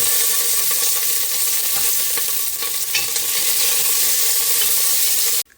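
Ginger, garlic, green chilli and curry leaves fry in hot oil for a rice pulao, giving a loud, steady, dense sizzle that holds almost the whole time before cutting off abruptly near the end.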